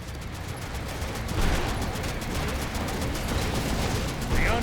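Sustained rapid gunfire from a turret shoots down incoming missiles in the Sand Land video game, a dense continuous rattle with a couple of louder bursts, mixed with game effects.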